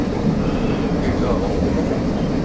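A CalTrain commuter train between San Mateo and Belmont, a loud, steady low rumble of the railcar in motion, heard from inside the carriage, close and continuous.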